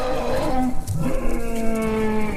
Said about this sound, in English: A long howl was heard from behind him.